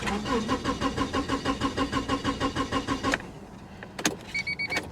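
A car engine cranks in a fast, even rhythm of about a dozen starter turns over three seconds, then stops; a few sharp clicks and knocks follow in the quiet.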